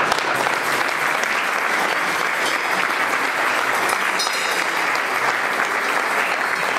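A church congregation applauds steadily and loudly throughout, a dense, continuous wash of clapping from a large crowd that never lets up.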